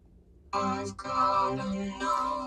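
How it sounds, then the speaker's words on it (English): Vocals run through the Vocode X vocoder plugin, giving a robotic, harmonically rich voice that sustains a few short phrases with brief breaks. "so this is a vocoder plugin called Vocode X"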